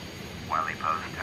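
A small airplane's engine hums steadily on the runway before takeoff, a continuous moderate drone with radio-style voices speaking over it.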